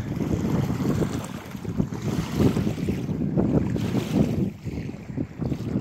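A motorboat cruises across 11 Mile Reservoir, its engine a steady low rumble mixed with splashing water and heavy wind buffeting the microphone throughout.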